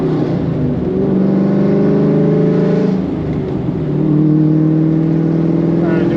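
A Pontiac GTO fitted with Wilwood big brakes accelerating on a road ahead of a hard braking test, its engine droning and climbing steadily in pitch, loud from inside the car, with a brief dip midway before pulling again.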